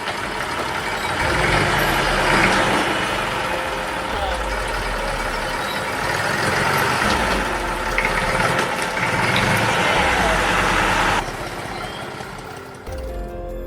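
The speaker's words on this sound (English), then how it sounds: "The tractor screams, the ground fights back" Tractor engine straining against a tree stump, a heavy continuous roar that swells and labors, with speech heard over it and a drop in level near the end.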